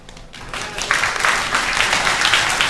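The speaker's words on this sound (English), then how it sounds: "give one more round of applause for the 4 Peekskill High School students" Dense audience applause at a Peekskill community forum for four high school students, rising quickly from a quiet start to a steady, loud wash of many hands clapping, without talk.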